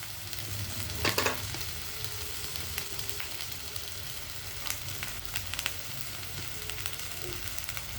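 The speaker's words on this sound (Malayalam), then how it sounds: "പൊട്ടറ്റോയും കോളിഫ്ലവറൊക്കെ നല്ലോണം വഴണ്ട് വന്നിട്ടുണ്ട്" Potato and cauliflower sauté in a pan for aloo gobi, with a continuous even sizzle and a few soft stirring clicks scattered throughout.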